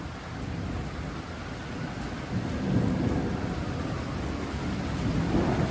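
Heavy rain pours steadily during a tornado warning, with low rumbling thunder swelling midway and again near the end, no voices.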